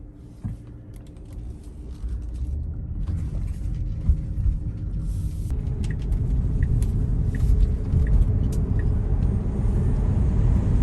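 A Tesla Model 3 pulls away and cruises down the road, giving a steady low rumble of tyre and road noise with faint cabin creaks that swell slightly as it gathers speed.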